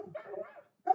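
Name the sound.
dogs barking in the background, heard through a laptop microphone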